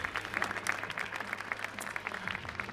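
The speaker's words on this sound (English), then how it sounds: "Give yourselves a round of applause, why not?" A crowd applauds at the WRC 2026 season launch event in Monaco, a moderate, scattered patter of clapping over a low hum of venue sound, continuing evenly without speech.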